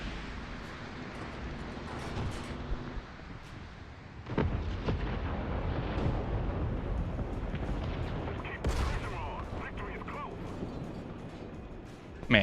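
Tank cannon shots from a Centurion Mk.5/1 in War Thunder: a heavy rumbling boom that rolls through a constant low engine drone, with another sharp blast later on, loud and close.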